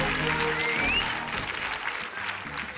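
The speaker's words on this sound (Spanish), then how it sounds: "Fuerte aplauso para Curro." Studio audience applause on a Spanish television game show, loud sustained clapping with a brief whistle-like tone early on, gradually easing but continuing throughout.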